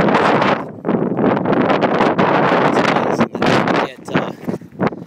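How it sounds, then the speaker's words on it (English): Loud, blustery wind buffets the microphone in rough gusts, roaring and rumbling throughout with brief dips. "the wind is blowing pretty hard today"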